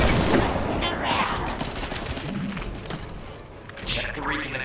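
Hand cannon gunfire in the sci-fi shooter game The First Descendant, sharp shots in dense game combat with explosions and effects, loud and busy, mixed with voices talking.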